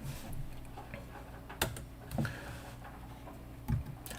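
Sparse keystrokes on a computer keyboard click quietly and close, a few separate taps spread over a few seconds against a soft hum.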